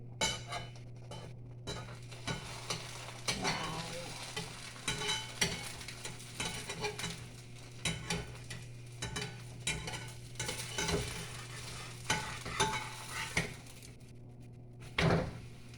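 Breakfast food fries in a pan with a steady low sizzle, while a spatula scrapes and taps against the metal in frequent irregular strokes, ending with a louder clank.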